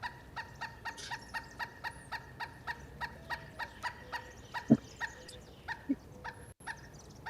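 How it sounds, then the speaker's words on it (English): A pet dog named Billy howls and barks along with a played recording of bird calls, including a pileated woodpecker; the steady rhythmic pulses of the calls repeat through the clip while the dog's voice rises over them indoors. "And that's my dog, Billy, singing along."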